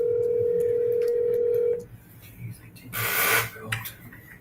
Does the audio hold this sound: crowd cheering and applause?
no